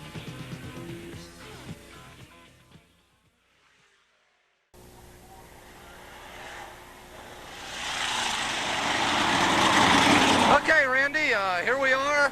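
Sprint cars idling before a twin 20 race at Port Royal Speedway's dirt track in 1985. After brief music and a pause, a broad engine roar builds steadily and grows loud, ending in wavering, warbling tones.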